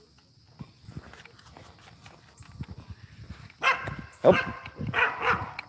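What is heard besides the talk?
blue heeler dogs barking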